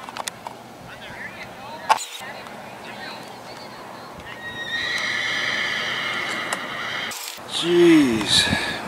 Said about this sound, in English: what is the matter with that horse?